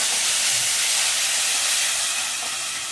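Grated tomato tipped into a hot mustard-seed and chilli tempering for a tomato fish curry sets off a loud, steady close-up hiss that eases slightly toward the end, with nobody speaking.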